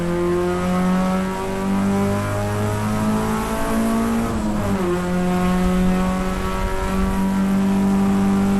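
A race car engine at Road America accelerates hard out of a corner, a loud close-up onboard drone climbing steadily in pitch, dipping briefly as it shifts gear, then building again, with no talk.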